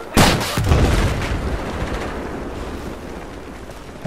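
Gunfire in Battlefield 4: a sharp, loud shot opens, followed by a second blast and a rattle of distant automatic fire that trails off into a rumbling, decaying echo over several seconds.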